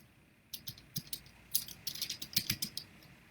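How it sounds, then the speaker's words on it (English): Quick bursts of computer keyboard typing during a live podcast, a dozen or so close, crisp key clicks arriving in uneven clusters over a quiet room background with no talking. "So you're going to hear me typing for a second."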